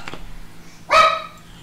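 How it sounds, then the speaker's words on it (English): A dog gives a single short, bright bark at close range, loud against a quiet background, with no voices during it. "That's a dog."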